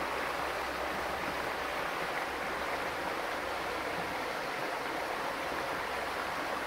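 A cold mountain river flows in a steady, broadband rush of water, constant and fairly loud throughout, with no voices over it.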